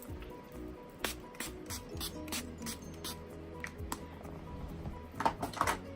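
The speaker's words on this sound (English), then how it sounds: "spray the face with some setting spray." Several short hissing sprays from a pump bottle of setting spray onto a face, spaced irregularly, close and fairly quiet, with a quick cluster of spritzes at the end.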